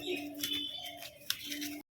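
Pigeons of the Madrasi breed cooing softly nearby, a faint low steady hum with light rustles, ending in a brief silence.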